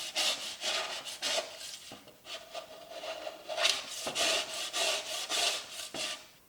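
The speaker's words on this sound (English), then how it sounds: "take your scraper, you're going to lay it down on the palette, find a swatch of paint you want to remove, and just push it away from yourself" A palette scraper pushing wet paint off an artist's palette, producing a series of gritty, raspy scraping strokes in an uneven rhythm, close and fairly quiet with no talking.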